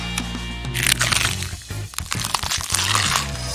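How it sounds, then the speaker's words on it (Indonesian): Giant potato chips crunch loudly and close, a dense run of crisp cracks and crackles with crinkling from the large bag. "Kriuk-kriuknya bikin kupingku sakit."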